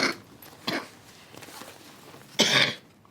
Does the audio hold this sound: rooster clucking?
no